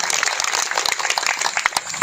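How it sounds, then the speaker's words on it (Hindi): Crowd applause at a political rally, a dense wash of many hands clapping at once, steady and fairly loud across the short stretch with no voice standing out. "एक बार मोदी जी के लिए जोरदार ताली बजाएं।"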